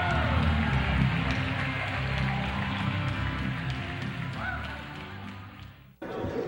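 Horse show audience in a show ring applauding, a dense, sustained wash of clapping with crowd noise that runs steadily before cutting off abruptly near the end.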